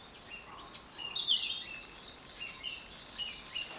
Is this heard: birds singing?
yes